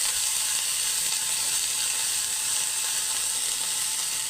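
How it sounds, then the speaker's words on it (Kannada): Chopped onions frying in a pan for oyster sukka, a coastal Karnataka dish: a constant, close, bright sizzle with faint crackle, steady throughout and with no talking. "ಈರುಳ್ಳಿ ಸ್ವಲ್ಪ ಸಾಫ್ಟ್ ಆಗೋವರೆಗೂ ಹುರ್ಕೊಳ್ಬೇಕು."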